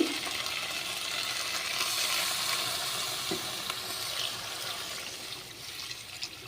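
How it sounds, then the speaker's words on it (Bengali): Water pours into a thin potato and falui fish curry in a pan, giving a soft, steady hiss and light sizzle throughout. "এবার আমি জল দিয়ে দিচ্ছি।"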